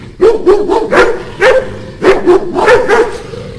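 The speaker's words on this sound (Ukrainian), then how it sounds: "Пси гавкають голосно так." Several dogs bark loudly and repeatedly in short bursts, close by, with a few higher yips mixed in.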